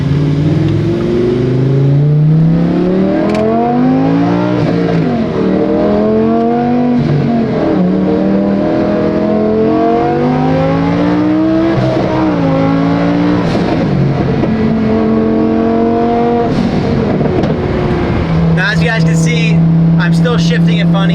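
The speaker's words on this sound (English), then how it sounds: "Shifting it funny, and that is because we did not get a new clutch yet." A Lamborghini with a worn clutch accelerates hard and repeatedly shifts gears. The loud engine climbs in pitch through several rising sweeps, drops briefly at each shift, then settles into a steady drone at the end.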